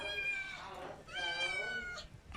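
A cat meows indoors at home: two or three drawn-out, wavering meows, fairly quiet and close, with no voices over them.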